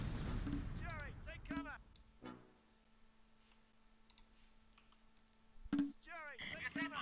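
Mortar fire in the Close Combat Last Stand Arnhem war game, set at Wolfheze in 1944, comes as a few sharp distant thuds among interface clicks, with someone talking over them at a low level.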